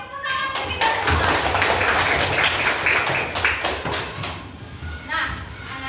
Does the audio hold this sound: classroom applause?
yes